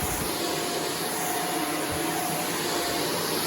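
A Shark DuoClean vacuum cleaner pushed along a hard floor gives a steady, loud broadband whoosh and motor whine, continuous and close throughout without pauses.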